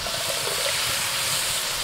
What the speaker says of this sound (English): So you let that sizzle away there just for 30 seconds